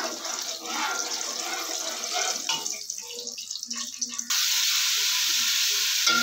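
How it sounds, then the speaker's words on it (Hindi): Chicken frying in ghee over low heat for a Peshawari charsi karahi, a steady close sizzle with stirring scrapes, shifting to a louder, more even hiss toward the end. "हमने चिकन को घी में डाल दिया है और इसे अच्छी तरह ब्राउन होने तक हल्की आंच पे पकाना है इसे।"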